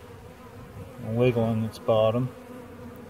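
Honeybees buzzing at a hive on a warm day make a steady low hum, with a person briefly talking over it.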